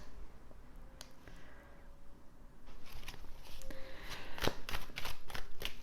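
Tarot cards shuffled and drawn by hand during a reading: soft papery riffles and flicks, close and quiet at first, growing into a run of sharper card snaps and slaps toward the end.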